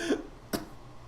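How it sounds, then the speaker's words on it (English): Two short coughs from a person playing Zelda: Breath of the Wild, a throaty one followed half a second later by a sharper, brief burst, close and fairly loud. "I started coughing there."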